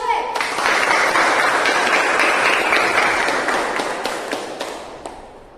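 An audience at a Toastmasters club meeting applauds in a dense burst of clapping that swells quickly, holds for several seconds, then thins out and fades.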